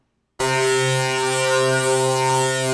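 After a brief silence, a Phase Plant synthesizer note with a comb filter engaged starts abruptly and sustains, its bright harmonic tone shifting and shimmering slightly in motion, loud and alone.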